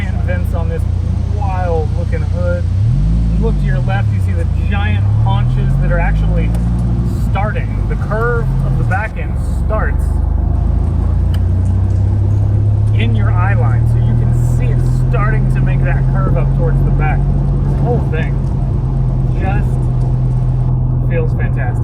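Dodge Viper engine rumbling loudly from the engine bay just ahead, a continuous low growl with a rising and falling pitch sweep early on, then a steady drone, while someone talks over it throughout.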